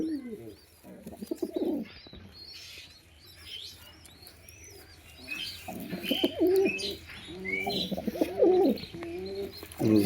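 Female pigeons kept by a pigeon fancier coo and call repeatedly at close range, low throaty coos in clustered bursts mixed with higher chirps and a brief flutter of wings.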